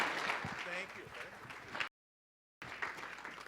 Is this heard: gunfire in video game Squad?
no